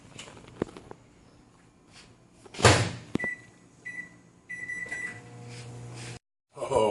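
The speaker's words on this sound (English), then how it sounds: "we are going to put this one back in the microwave to melt the cheese." A microwave oven heats a breakfast taco to melt its cheese: a steady low hum runs beneath clatter and a door or latch clunk, then a few electronic beeps, with brief talk near the start.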